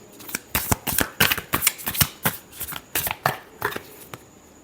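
Tarot cards being shuffled in a steady run of crisp riffling slaps, roughly a dozen quick bursts close up and alone, with no talking.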